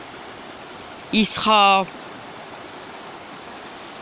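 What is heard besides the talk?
river water flowing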